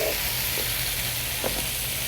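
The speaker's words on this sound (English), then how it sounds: "just to get our capers kind of sizzling away" Capers frying in hot olive oil in a skillet on an induction cooktop, giving a steady close sizzle with faint pops throughout, no talking.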